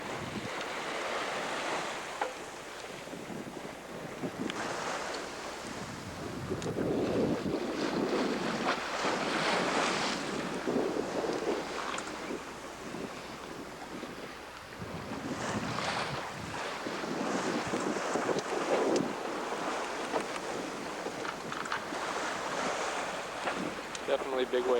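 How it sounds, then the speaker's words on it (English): Big mid-Atlantic ocean waves surge and crash around a sailboat running under its mainsail alone at 7 to 8 knots, with steady loud wind roaring across the microphone throughout. "Definitely big waves."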